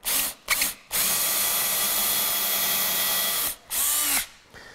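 A power drill bores into reclaimed wood, close and loud: two short bursts, then one long sustained whine that stops briefly and starts up again before cutting off.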